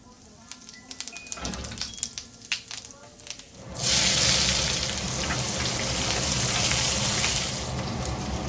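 Mushroom masala frying in oil with cumin and bay leaf in a cast iron skillet, a loud steady sizzle starting partway through after some scattered clicks and taps, with a voice talking faintly underneath.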